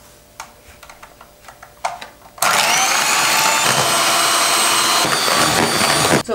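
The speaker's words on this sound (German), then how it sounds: "Und das wird richtig schön geschlagen, bis das richtig fest ist." An electric mixer whipping four egg whites with sugar switches on abruptly after a few light clicks and then runs as a loud, steady whirring drone.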